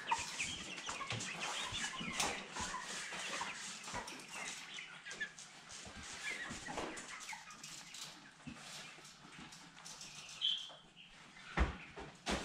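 Broiler chickens around forty days old in a poultry house, a flock clucking and murmuring continuously at moderate volume, with scattered sharper calls and scuffling noises.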